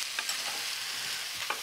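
Leeks sweating in a pan give off a steady, close hiss and sizzle with soft stirring scrapes, continuous and fairly loud with no voices.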